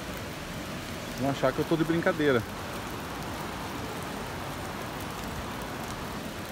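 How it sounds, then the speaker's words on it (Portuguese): Rain falls steadily on a cold day in the countryside near Almonte, Ottawa, a constant close hiss of drops that runs the whole time. Someone speaks briefly over it near the start. "Tá chovendo, tá gelado."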